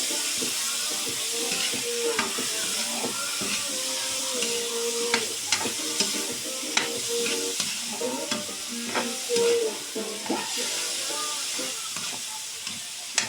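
Sliced bitter gourd (ampalaya) sizzles in a frying pan while a spatula stirs it, giving repeated scraping and clinking strokes over a continuous hiss, close and fairly loud, with no speech.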